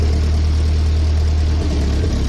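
An old Nissan S110 Gazelle engine idles roughly during adjustment, a loud, close, low drone that holds steady and then wavers slightly toward the end.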